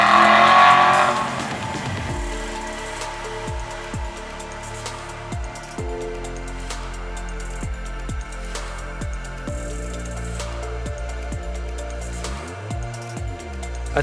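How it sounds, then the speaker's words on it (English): An Aston Martin Vantage sports car's engine revs repeatedly, pitch sweeping up and down in sharp bursts after a loud opening roar, with crackling exhaust pops between revs. "The sound you get out of the exhaust is nothing short of unbelievable."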